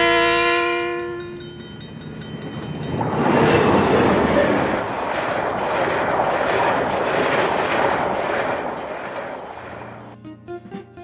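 An NS tram locomotive passes on rails, opening with a loud chord-like horn, then a heavy rolling rumble with clickety-clack rising and falling before it fades. No voices.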